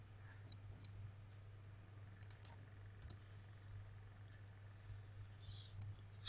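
Sharp computer mouse clicks, single and in quick pairs, scattered over a steady low electrical hum while someone codes at a desk.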